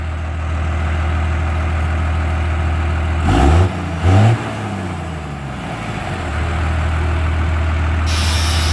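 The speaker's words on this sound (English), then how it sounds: "it's back to revving up again. Give her a little rev." A Chevrolet C30 truck's diesel engine idles steadily close by, then is revved twice in quick succession, each rev a short loud surge that falls back to a rumbling idle.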